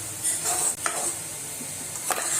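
A spoon scrapes and stirs crushed peanut chutney roasting in a pan over low heat, with soft intermittent scraping strokes over a faint dry sizzle.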